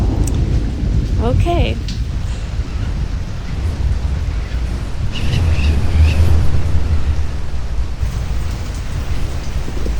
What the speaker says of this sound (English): there's a giant storm hitting the islands